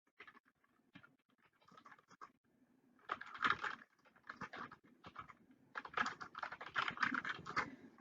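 Text typed on a computer keyboard in uneven bursts of quick key clicks, close and quiet, growing busier toward the end with no talk.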